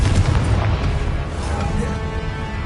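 A Confringo spell explosion in the Hogwarts Legacy video game: a deep, loud booming blast rumbles continuously for a few seconds, with dense low-end crackle and no spoken voice.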